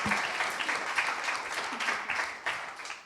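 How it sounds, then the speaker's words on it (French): An audience at a student debate competition at a humanities and social sciences olympiad applauds, a steady wash of many hands clapping at moderate distance, fairly soft and continuous. "Merci beaucoup, on peut les applaudir."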